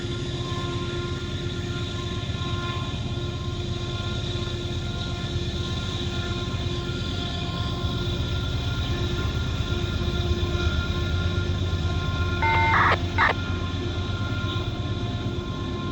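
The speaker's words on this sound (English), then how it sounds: "Loaded coal train being shoved." A heavy loaded coal train being shoved rolls slowly with a steady low rumble and metallic grinding, then a brief high squeal near the end. No voices.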